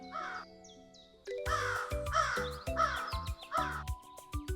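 A crow in an animated story caws over background music, a quick run of loud, harsh caws repeating in a steady rhythm close up.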